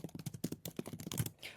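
Keystrokes clatter on a computer keyboard during a software demo, a quick irregular run of close, crisp clicks with brief pauses, no talking over them.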